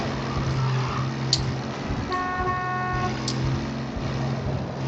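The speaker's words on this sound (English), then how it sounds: "Honk honk." A vehicle horn in a video game gives one steady honk lasting about a second over constant engine and road rumble while escorting a truck.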